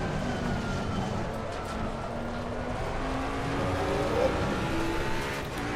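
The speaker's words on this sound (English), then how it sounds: "I can hear the engine rotating" Race car engine in the sim racing game Assetto Corsa Competizione, a steady droning engine tone with rising pitch sweeps as it revs through gears, running continuously without talk.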